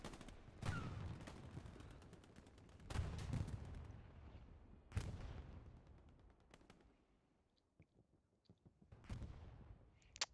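Artillery fire in a tank battle video game, with a few heavy booming blasts spaced a couple of seconds apart, each trailing off into a long rumble and followed by fainter distant shots.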